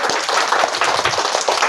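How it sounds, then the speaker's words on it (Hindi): A classroom of schoolchildren claps for a classmate who answered well. The claps are dense and scattered at close range and keep a steady level for a short burst. "आर्यन के लिए ताली बजाइए"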